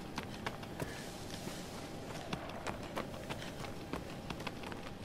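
A horse's hooves clip-clop in a fast, steady rhythm in the video game Shadow of the Colossus on PS4, moderately near over a soft background wash.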